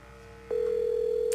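A telephone in a Nancy Drew video game sounds a steady, loud electronic ringing tone that starts abruptly partway through and holds without a break, with no talk.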